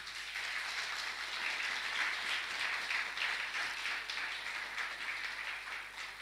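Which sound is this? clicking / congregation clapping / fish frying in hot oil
congregation clapping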